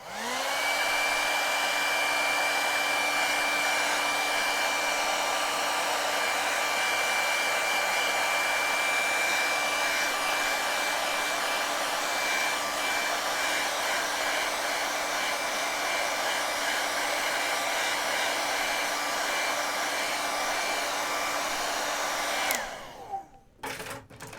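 A hair dryer blows over a watercolor rose painting, a loud, steady whirring hum that holds for over twenty seconds before clicking off near the end, with no voices.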